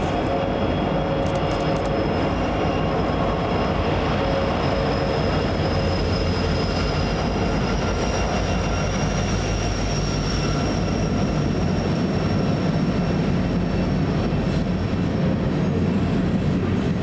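A freight train hauled by a BN MAC locomotive in heritage markings rolls past on the Front Range Sub near Westminster, a loud, steady rumble of cars with a thin high wheel squeal running through it.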